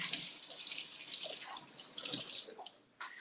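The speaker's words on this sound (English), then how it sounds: "All right, let's rinse this off." Vegetables rinsed under a running kitchen tap, a steady close hiss of flowing water with splashing shifts as the produce moves, briefly cutting off near the end.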